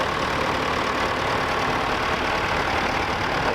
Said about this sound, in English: Next tractor coming along on the lower side of the arena